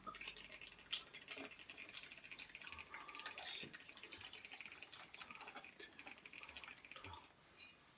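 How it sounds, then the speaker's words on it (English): Gin or vodka being poured for a martini, a faint trickle of liquid with soft drips and small splashes running for several seconds, quiet and close, with no talking. "we're going to start out with 3 ounces of gin or vodka."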